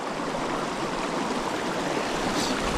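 Water flowing steadily in a small, partly iced-over winter creek, a continuous close rushing wash with no other sounds.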